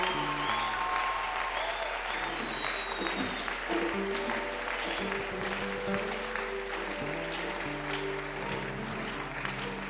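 Church congregation clapping and cheering in praise of God, steady sustained applause filling the room alongside a low musical backing.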